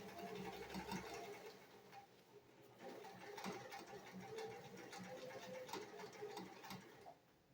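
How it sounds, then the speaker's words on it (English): A sewing machine stitches a hand towel, running a few stitches forward and then backing up to lock the seam, a steady fast mechanical whir with faint clicks, fairly quiet and close, with no talking. "Few stitches forward, few stitches back to secure it."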